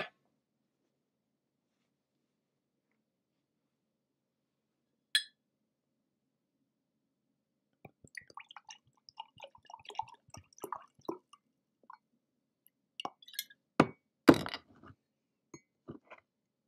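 A freezer-cold drink is poured into an empty coffee mug: scattered drips, splashes and small clinks come in uneven bursts, close and faint, with long quiet gaps between them.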